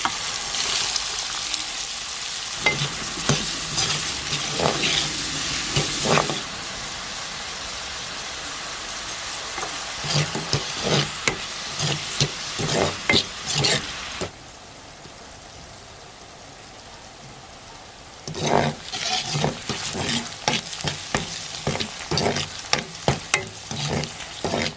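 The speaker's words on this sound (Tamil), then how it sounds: "இப்போ அந்த வெங்காயம்லாம் போட்டு வதக்கலாம்." Onions sauté in about 100 grams of hot oil in a kadai for paneer butter masala, a steady crackling sizzle punctuated by bursts of stirring scrapes that come and go, with no talk.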